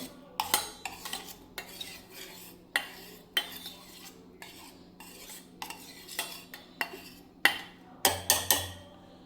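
Metal spoon scraping and clinking around a steel vessel while curd starter is smeared over its sides, a run of sharp close taps and scrapes with short pauses and a louder cluster near the end.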